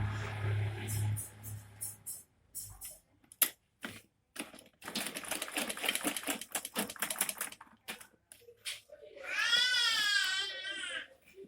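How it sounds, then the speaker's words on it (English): A sewing machine stitches a zip onto a blouse, giving a fast, close, rattling whir in uneven bursts. A baby cries in the background near the end. "You can see me sewing down"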